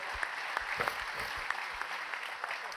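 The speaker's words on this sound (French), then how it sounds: "Applaudissements." Steady audience applause at a French New Year's greetings ceremony, a dense wash of many hands clapping at moderate level and continuing evenly throughout.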